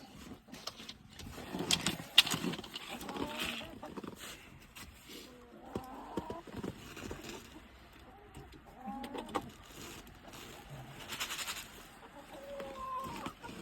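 Chickens cluck softly at a distance amid scattered rustling and outdoor noise, with short, low calls recurring irregularly throughout.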